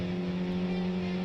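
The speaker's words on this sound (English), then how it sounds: "I can also say that this V6 engine sounds" An Alfa Romeo V6 in Gran Turismo 2 holds a steady, smooth engine note with a strong sustained tone, droning evenly at a constant pitch rather than climbing in revs.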